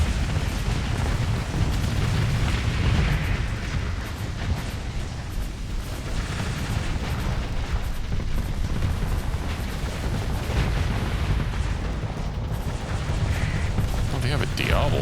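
Missiles explode in a video game as a dense, continuous barrage of loud booms and crackling blasts. The rumbling bursts overlap for the whole stretch without a pause.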